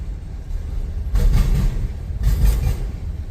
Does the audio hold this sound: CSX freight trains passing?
yes